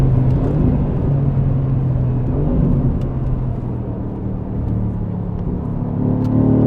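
A Mercedes AMG GT R at speed on the Nürburgring, heard as a loud, steady low engine roar and road rumble from inside the car, sustained throughout with slight swells.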